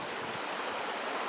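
Waterfall and stream at Kedron Flume in New Hampshire, a steady broadband rush of falling and flowing water, even and unbroken, at moderate distance with no voices.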